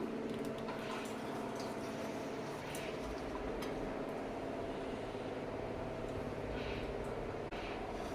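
Boiled tamarind pulp drops softly into ground dried red chillies for a gongura pickle, a faint, wet squish over a low steady background hum.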